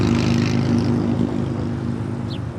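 An Air Canada heavy jet taking off from runway 25 right at LAX, a loud continuous engine roar with a dense low rumble that holds steady, heard from nearby without any talk.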